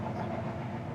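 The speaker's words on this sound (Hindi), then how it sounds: "ट्रेन टाइम पे तो जा रही है" A train rolls past on the railway track right beside a house, a steady close rumble with a faint rhythmic clatter of the wagons throughout.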